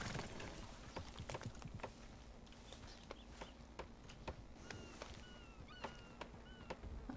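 Hooves of a Tennessee Walker horse clip-clop in a quiet, even rhythm in a Wild West video game, faint and steady with no talk over them.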